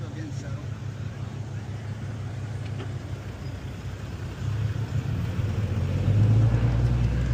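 A truck engine runs with a steady low rumble that swells louder toward the end as the truck moves off, a muffled close drone with no clear talk over it.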